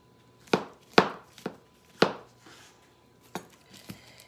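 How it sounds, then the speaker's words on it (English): A knife chops mushrooms on a board in sharp, close thumps, about eight cuts at an uneven rhythm with short pauses between them, over a quiet kitchen background. "I'm going to chop up these mushrooms"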